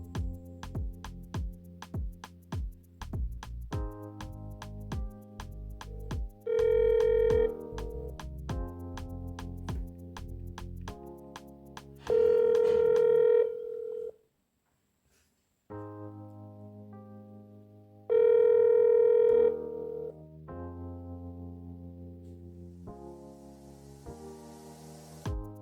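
A telephone dials a call: a quick series of short keypad tones with pauses, followed by steady dial or ringback tones, sounding clean and close with quiet gaps between them.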